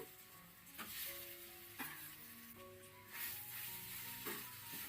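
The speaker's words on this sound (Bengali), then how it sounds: "এরপর আলুটা ভালো করে নাড়াচাড়া করে নিচ্ছি" Mashed boiled potato stirred in hot oil with asafoetida, a soft steady sizzle broken by several scraping strokes of the spoon against the pan, close and fairly quiet.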